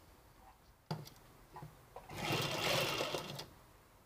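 Domestic sewing machine stitching elastic onto a home-made cloth face mask, a few short clicks and brief runs, then a steady close whirring stretch of stitching lasting over a second before stopping.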